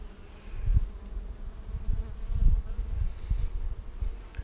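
Honeybees buzz steadily in an open hive in a bee yard where three queens were found, a continuous hum with low thumps of handling the frames, no talk.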